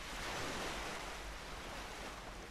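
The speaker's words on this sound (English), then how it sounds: "The sound of the sea is so loud." Loud sea waves in Beyond Crimson Stars, a dense continuous roar of surf filling the scene, close and unbroken with a low rumbling undertone.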